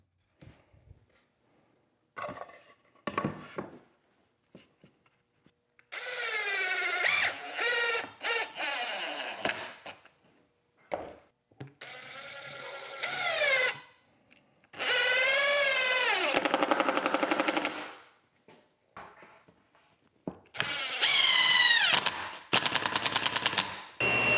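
A power drill drives screws to fix a cedar trim piece onto a wooden dog bed frame, loud close whirring bursts of several seconds each, separated by short pauses and small clicks.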